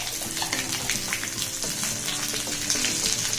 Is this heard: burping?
no